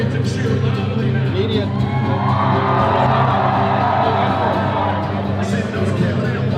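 Loud crowd cheering at a union rally, a dense roar of whoops and shouts with voices mixed in, sustained throughout.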